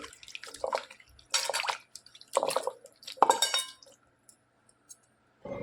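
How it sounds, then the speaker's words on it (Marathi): Soaked dried fish (wakti) being rinsed in water in a vessel, bursts of splashing and dripping with light clinks, separated by short pauses and ending nearly quiet. "स्वच्छ धुवून घ्यायचे तीन ते चार पाण्यामध्ये"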